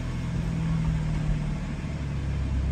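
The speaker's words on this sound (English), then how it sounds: "I'll fire the car up" A BMW 430i M Sport convertible with about 83,000 miles runs at a steady low idle hum, close and even throughout with no talking; no distinct start-up moment is heard.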